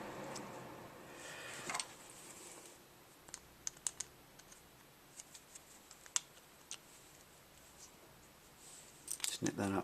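Small scissors or wire snips cut through trailer light wiring in a garage, a series of sharp, isolated clicks spaced irregularly over a quiet background, close and fairly crisp, with a louder burst of handling noise near the end.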